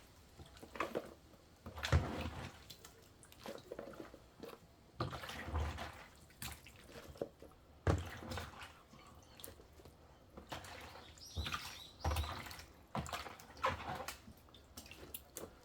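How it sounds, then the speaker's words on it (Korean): Water is poured off from a washing basin of lightly pickled kimchi, making soft splashes and trickles in uneven bursts. The sound is quiet and close, with no voices. "여기 타라이에서 이 물을 다 빼기가 쉽지가 않습니다"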